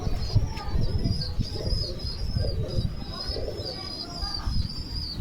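A Bengal pigeon, a hen, gives soft, low, throaty coos close by, repeating steadily through a faint rustle of wings and light background noise.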